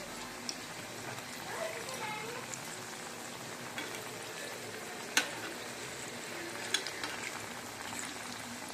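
Carrot vadai frying in a pan of oil, a steady soft sizzle and crackle running throughout with a few sharper pops, no one talking over it.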